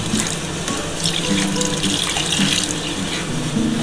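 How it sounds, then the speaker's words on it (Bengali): Water poured from a tap-like stream into semolina in a pan on a gas stove, a steady continuous splashing and gushing that holds loud and close throughout. "বন্ধুরা এবার আমি কিন্তু জল দিয়ে দিচ্ছি। জলটা দিয়ে কিন্তু ভালো করে কিন্তু সুজিটা ফোটাতে হবে।"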